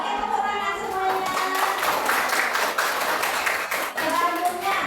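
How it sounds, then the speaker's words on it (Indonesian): A class of seventh-grade children claps together in a classroom, fairly close and uneven, with children's voices chattering over the clapping. "Oke, tepuk tangan semuanya."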